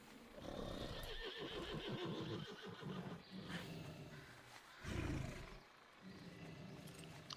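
A horse whinnies in World of Warcraft amid a busy game soundtrack with roaring creature noises and hoof clatter, one louder neigh standing out near the end.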